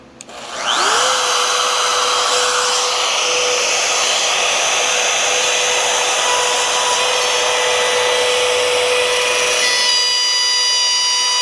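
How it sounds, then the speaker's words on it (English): A plunge router cutting a keyhole slot in wood gives a loud, steady high-pitched whine that rises as the motor spins up and then holds level, close and alone. "I'll shut the router off."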